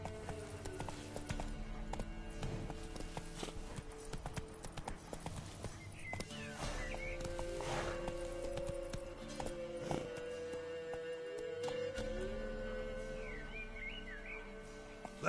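In The Witcher video game, a horse gallops with a steady, quick run of hoofbeats, heard up close amid soft ambient game sounds and music.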